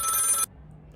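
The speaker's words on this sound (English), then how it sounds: "Ellie, phone please. See who it is" Telephone bell ringing loudly and close for a brief burst, then cutting off abruptly into quiet room tone.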